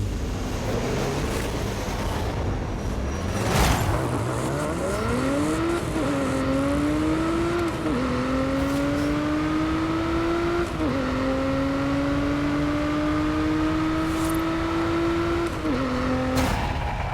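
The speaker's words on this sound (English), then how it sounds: "We'll start with the Spaceship 1/4 mile drag race" Stock Nissan Z launching down a quarter-mile drag strip in Forza Horizon 5, its engine revving loud and steady, pitch climbing through each gear with brief dips at the shifts, alone without talk.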